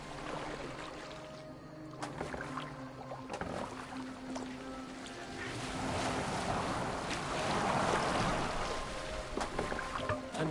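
A boat moving across the water in Assassin's Creed Valhalla, with soft wind and a washing swell of water that grows louder midway and a few faint creaks and knocks.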